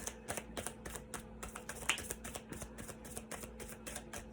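Tarot cards being shuffled and drawn, a quick run of soft papery riffling clicks in a steady rhythm, close and fairly quiet, continuing throughout without talk.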